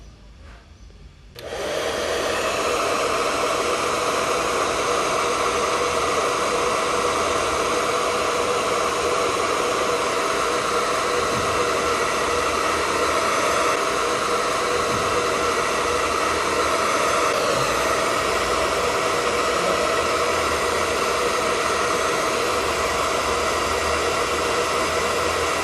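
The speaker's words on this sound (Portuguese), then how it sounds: "Agora a gente vai ligar um secador aqui com ar quente em cima do sensor e vamos aumentar a temperatura dele." A hot-air hair dryer switches on about 1.5 seconds in and blows a loud, steady broadband whoosh with a constant motor hum onto a DHT22 temperature and humidity sensor, continuing unbroken to the end.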